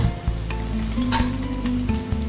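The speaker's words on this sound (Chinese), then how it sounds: "这个辣椒呢一定要炒香了" Dried chili peppers sizzle and crackle in a hot wok as they are stir-fried, with scraping and tossing strokes from the stirring. The frying is loud and close, with no voices.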